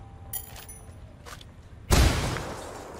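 A single loud gunshot bursts out in the tactical shooter game Ghost Recon Wildlands after a quiet stretch of faint ambience, then decays into a noisy tail.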